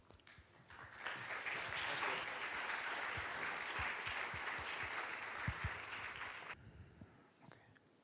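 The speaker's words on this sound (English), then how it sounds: "let's give him a round of applause" A conference audience applauds steadily for several seconds, a dense wash of clapping that stops abruptly near the end.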